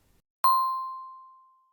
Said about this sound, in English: Is that bell chiming again?